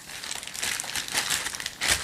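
A plastic bag crinkles and rustles around pizza dough being packed away for the refrigerator, close and fairly quiet, in quick irregular bursts over a couple of seconds with no one talking.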